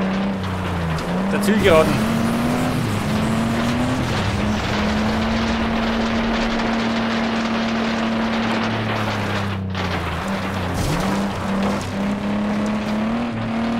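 Car engine held at full throttle in the racing game Flatout 2, a steady loud droning roar with slight pitch dips at gear changes, under someone talking excitedly throughout.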